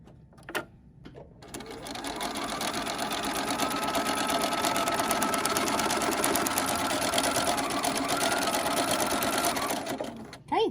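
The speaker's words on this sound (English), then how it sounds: "it is important that you sew right on the line" A sewing machine runs at a steady, fast, continuous whir for about eight seconds while stitching a paper-pieced snowman tabletopper block, with a few short clicks before it starts and a stop at the end.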